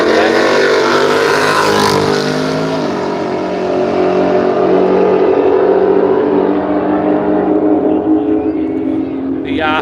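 A Chevrolet drag car roars down the strip at the Willowbank radial drags, a loud sustained engine blare that swells and holds steady, with a commentator's voice running over it.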